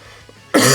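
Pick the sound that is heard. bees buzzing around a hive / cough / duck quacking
cough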